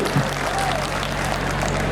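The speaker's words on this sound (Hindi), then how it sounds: "एक बार ताली बजा के बता दो जरा जोरदार तरीके वाली" An audience at a Hindi comedy poetry gathering (hasya kavi sammelan) in Baraut claps loudly and steadily, a dense, continuous wall of applause filling the whole moment.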